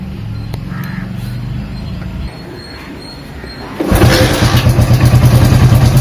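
A Hero 100 cc self-start motorcycle, under timing chain repair, idles roughly before its engine is started and revs, then settles into a loud, close, rhythmic chugging idle. No one speaks.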